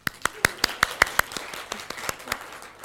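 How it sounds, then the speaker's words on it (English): Conference audience applauding at an opening ceremony: a string of sharp, evenly spaced claps, fairly close and distinct, that thin out and fade over a few seconds. "round of applause for the IPG group"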